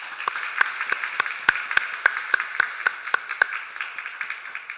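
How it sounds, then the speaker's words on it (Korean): A congregation claps during a Sunday church service honoring retiring deacons, with crisp, evenly spaced claps forming a steady rhythmic beat at moderate volume. "우리 박수로 격려하도록 하겠습니다."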